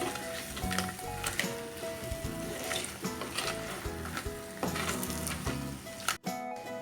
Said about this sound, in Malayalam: ഇനി ഇത് ഈ മസാലയായിട്ട് നന്നായിട്ടൊന്ന് മിക്സ് ചെയ്ത് കൊടുക്കാം